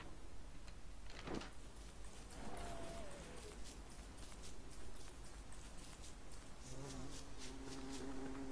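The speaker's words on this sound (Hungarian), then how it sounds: "Arra méhek vannak, arra nem megyünk." Bees buzz in the survival video game Don't Starve, a faint, wavering drone heard under steady background ambience, with a few swooping tonal sounds and a low hum toward the end.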